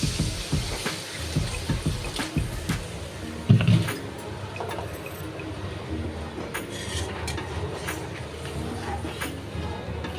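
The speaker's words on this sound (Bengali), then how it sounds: "সজনে ডাঁটাটা দিয়ে একটু ভালো করে নেড়ে চেড়ে জল দিয়ে দেবো।" Water poured into a pan of drumstick curry in a home kitchen, a steady splashing pour with clattering pan and utensil noises around it, close and moderately loud, no talking.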